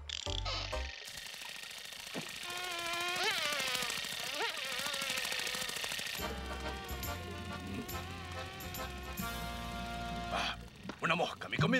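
A cartoon fly buzzes in a Woody Woodpecker episode, a whiny, wavering tone that swoops up and down over music and other cartoon sound effects, shifting into a busier mix partway through.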